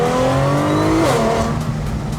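A supercharged Audi S4 running on E40 fuel revs hard at launch, its loud, close engine note climbing steadily and then shifting pitch around a gear change while the supercharger whine carries over the top.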